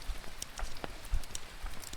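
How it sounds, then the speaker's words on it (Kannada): Rain falls at the Matheran hill station, with scattered drops pattering close by against a soft, steady wash of rainfall. "ಇವಾಗ ನೋಡಿದರೆ ಮಳೆ ಬರ್ತಾ ಇದೆ"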